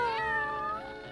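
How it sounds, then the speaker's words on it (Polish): A cartoon cat gives a single clear meow, close and moderately loud, falling away at the end, with no talking. "Nie wierzę, że tęsknię za tym głupim kotem."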